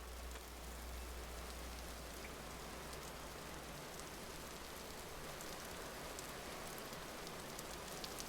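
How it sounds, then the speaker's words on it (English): Steady rain pours down evenly throughout in the video game Vintage Story, a dense hiss of drops on surfaces with no pauses and no voices. "Raining again."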